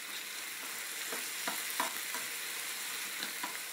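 Shrimp and mushroom filling stirred in a hot frying pan, a loud continuous sizzle with soft repeated scrapes of the utensil, close and alone without talk.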